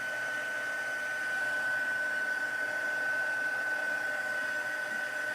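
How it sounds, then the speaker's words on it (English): A heat gun blows steadily and alone, giving a continuous airy whoosh with a thin high whine running through it, holding an even loudness throughout. "what would we do without a heat gun"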